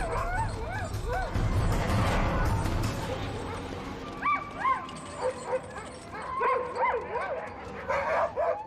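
Dogs of a sled pack in the Arctic bark, yelp and whimper near a hungry polar bear. The calls are loud and close and come in bursts, with a narrator speaking over them.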